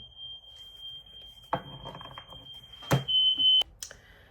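Smoke alarm set off by burning toast in a home, a steady high-pitched electronic tone sounding continuously with a few clatters and knocks nearby, then cutting off.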